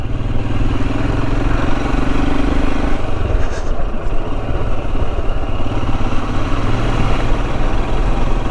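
A Royal Enfield Himalayan motorcycle engine thumps along on a green-lane trail ride, a loud, continuous low single-cylinder rumble close to the rider with wind noise throughout.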